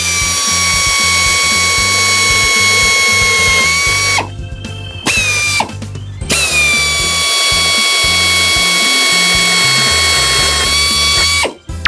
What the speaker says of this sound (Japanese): ここに、この配線が通るような穴を開けていきたいと思います